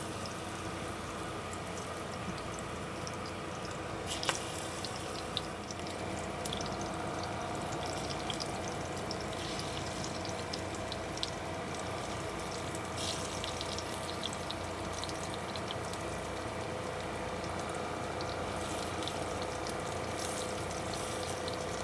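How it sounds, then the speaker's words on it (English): Food fries quickly in very hot oil in a tiny Airstream kitchen for Puerto Rican pastelón. A steady, soft sizzle and crackle with scattered pops continues throughout, fairly quiet, with no talking. "we're just gonna fry them very quickly in the very hot oil"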